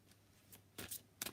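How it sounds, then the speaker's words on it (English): A deck of playing cards is shuffled quietly, with two or three short riffling bursts close by in a calm room, and no talk over them. "Just doing a shuffle, and I can't get the shuffle right."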